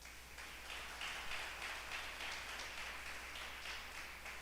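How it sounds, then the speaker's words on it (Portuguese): Church congregation applauding during a sermon, a soft, sustained rain-like patter of many hands heard from a distance, with a low electrical hum underneath and no speech. "Queria que você aplaudisse Jesus por isso."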